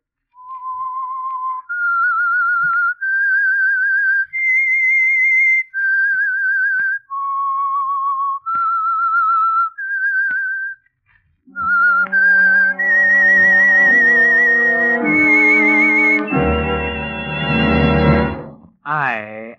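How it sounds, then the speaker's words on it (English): Whistled opening theme of The Whistler radio show from 1947, a lone melody of sustained notes that gives way to a fuller orchestral passage, played on its own without talk. "That whistle is your signal for the Signal Oil Program"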